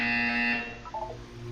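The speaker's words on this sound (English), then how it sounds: "You will hear a buzzer. When you hear the buzzer, look down at the floor." A buzzer from the Portal 2 video game gives a short, loud, flat electronic tone, then fades and is followed by a couple of faint softer electronic blips.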